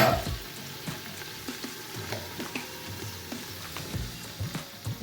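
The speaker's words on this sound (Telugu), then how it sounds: "పసుపు వేశాను ఈ ఐటమ్స్ కాస్త ఫ్రై అవనిద్దాము" Chicken curry ingredients with chili powder, coriander powder and turmeric sizzle softly in a pan, with a steady low fry broken by occasional stirring scrapes and taps nearby.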